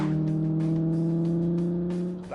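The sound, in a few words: classic car engine running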